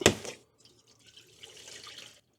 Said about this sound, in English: I'm pouring it in, and as soon as I pour it in, it's just gone.